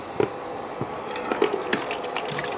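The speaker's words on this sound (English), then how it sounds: "because there's kind of a lot of water, I'm going to strain it a little bit" Cooking liquid from boiled stems and leaves is strained, giving a steady, soft stream of pouring, splashing water with faint clinks, close and continuous.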